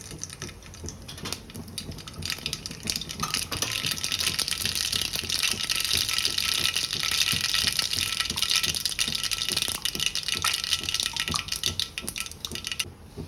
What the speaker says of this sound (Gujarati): નાની 1 ચમચી રાઈ એડ કરી દઈશું.